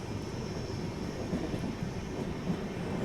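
A passenger train running alongside on the Dewas line as it enters a railway station beside the Malwa Express gives a steady low rumble that holds at an even level throughout, with no voices.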